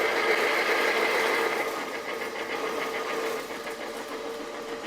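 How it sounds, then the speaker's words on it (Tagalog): A 5 horsepower Allen brand engine runs steadily, a continuous droning rumble that stays loud and close throughout with only a slight dip in level partway, and no voices over it. "5 horsepower po ang ating pong makina. Yan po ay Allen brand."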